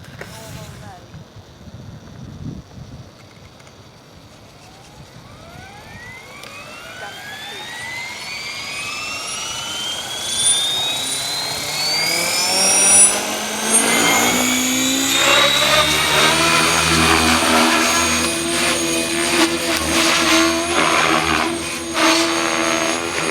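A Blade Fusion 480 Stretch RC helicopter with a Spektrum 6250HX controller starts up. A faint hum rises into a climbing electric whine as the rotor spools up, then holds a loud, steady high-pitched spin.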